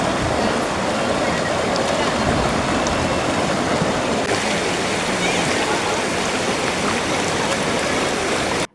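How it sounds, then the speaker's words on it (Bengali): A clear waterfall stream flows beside Meghalaya's hills at Sada Pathor, a loud, dense, continuous rush of water heard close up and unbroken for the whole stretch. "অন্য পাশে স্বচ্ছ ঝর্ণার জলধারা"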